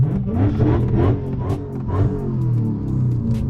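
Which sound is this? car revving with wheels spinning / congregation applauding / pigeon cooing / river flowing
car revving with wheels spinning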